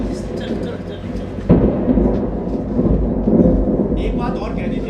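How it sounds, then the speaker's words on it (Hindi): Rain starting to fall outdoors, a steady broad hiss under loud thunder rumbling throughout, with a sharper crack partway through and voices talking over it. "अरे अरे यार, ये तो बारिश पड़ने लगी है भाई।"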